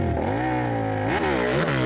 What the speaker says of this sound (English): He's revving up, clicks it into second.